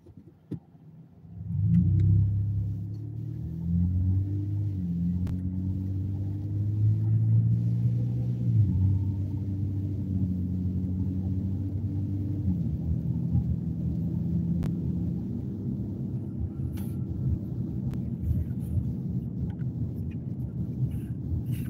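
Road traffic passing near traffic lights, a loud low rumble of a car engine swelling up and accelerating early on, then a steady continuous drone of vehicles for the rest, with no voices.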